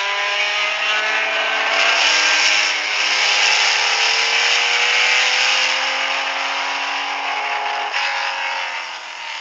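Race cars at the 1978 24 Hours of Le Mans: a loud, sustained engine roar with a high buzzing tone that holds steady and fades slightly toward the end, close by and alone with no talking.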